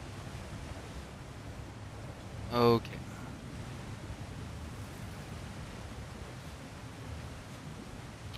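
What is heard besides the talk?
overflowing waterfall water in video game God of War Ragnarök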